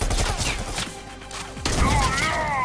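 Shots from a rifle in the Bullet Train VR demo on Oculus Quest, a few loud close reports and impacts amid game noise, with a brief gap partway through.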